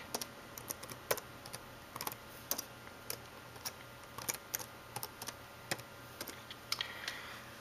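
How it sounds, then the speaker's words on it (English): A password is typed on a computer keyboard, a close series of sharp, irregular key clicks in short bursts over a faint steady electronic hum, with no talking. "I just put in my password and all that."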